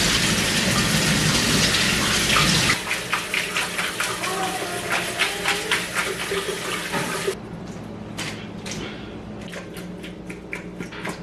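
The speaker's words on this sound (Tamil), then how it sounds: "நல்ல பச்சை தண்ணியால இதை நான் கழுவி விட போறேன்" Canned baby jackfruit being rinsed in a strainer under a tap, a steady loud gush of running water with clattering splashes, easing to a quieter trickle near the end.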